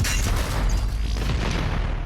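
Rapid sticky bomb and rocket explosions from a video game shooter, a dense rumbling barrage of overlapping booms filling the whole stretch, loud and continuous with no talk.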